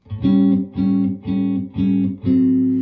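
Archtop guitar strumming five short, tight three-note jazz chords in a steady comping rhythm, each chord struck and briefly held, played alone and close.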